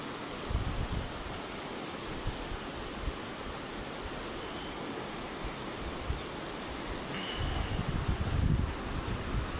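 Strong floodwater rushing near a new bridge, a broad continuous roar like surf that swells louder toward the end, heard from some distance with wind buffeting the microphone.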